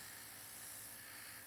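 An airbrush sprays nail paint in a continuous soft, airy hiss that stays steady and faint throughout, with no talk over it.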